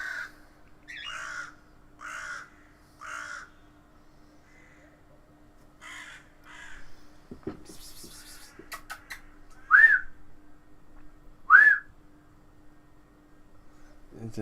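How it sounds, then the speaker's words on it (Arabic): Several crows caw outside a window, a run of four harsh caws followed by scattered calls and two louder, sharper caws, with some whistling and faint rustling in between. "انا بحب الغربان والله يعني كائنات ذكية جدا"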